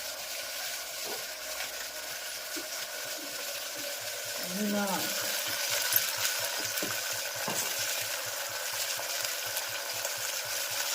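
Faint sizzling of spices, including ajwain, turmeric, chili powder and coriander-cumin, frying in hot oil as tempering for cluster bean curry, with occasional soft clinks and stirring under a steady background hiss.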